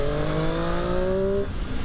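A 2018 Triumph Street Triple 765 R three-cylinder motorcycle accelerates, its engine note climbing steadily in pitch for about a second and a half before cutting off, loud and close with no talking.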